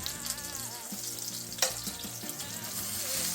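Portobello mushrooms sizzle as they caramelize in a hot pan, a close, steady frying crackle with a brief sharp clatter partway through.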